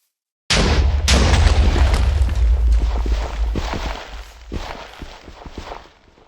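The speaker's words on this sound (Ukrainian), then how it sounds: "Виглядає все дуже реалістично, як і вибух динаміту." A Minecraft dynamite explosion: a loud, booming blast with a heavy low rumble that rolls on for several seconds, scattered crackles and debris-like pops trailing off as it fades.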